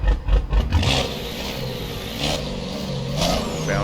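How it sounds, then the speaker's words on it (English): Truck engine running in American Truck Simulator, a steady mid-pitched diesel drone with slight rises in revs, heard close and alone without talk. "Here's the engine sound."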